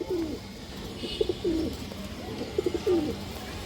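Pigeons coo softly in a few short rolling phrases, close by, with quiet pauses between calls and a faint background hum.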